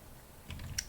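Computer keyboard typing, a few quiet close key clicks in a short burst.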